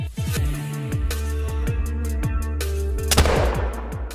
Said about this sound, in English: gonna take out the muzzle loader and we're gonna go for a hard shot